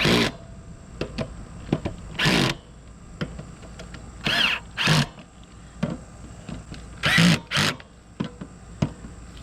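A power drill drives bolts into the steel frame of an RV motorhome during a hot water tank replacement, heard as repeated short whirring bursts of varying length separated by pauses and light clicks, close by, with no talking.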